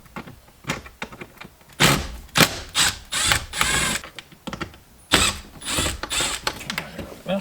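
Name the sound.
undoing Phillips head screws on car dash fascia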